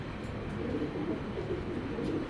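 Pigeons at a pigeon breeder's farm give low, soft cooing murmurs that run steadily through the whole stretch under a faint hum of background noise.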